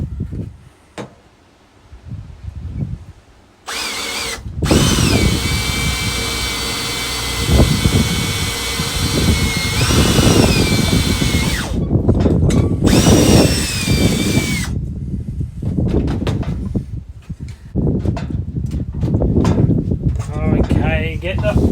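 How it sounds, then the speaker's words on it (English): A power drill whines loudly and close in long bursts with changing pitch while repairing an awning case during a camper fit-out, interrupted by short pauses and clattering handling, with someone talking between and over the runs. "now drill."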